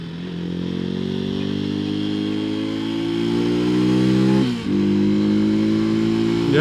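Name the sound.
motorcycle engine accelerating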